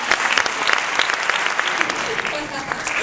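An audience applauds after an award is announced at the Lizarra short film festival, with dense, steady clapping that stays loud and even throughout.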